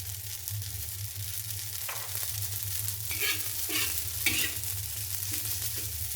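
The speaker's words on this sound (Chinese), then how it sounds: "再开火，把香味炒出来。" Aromatics being stir-fried in a wok for Singapore-style curry rice noodles with shrimp and char siu, a steady oily sizzle broken by several clattering scrapes and tosses of the spatula against the pan.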